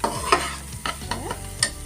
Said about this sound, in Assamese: এয়া মোৰ পিঁয়াজ আৰু বিলাহী, নহৰু, আদা ভজা হৈ গৈছে।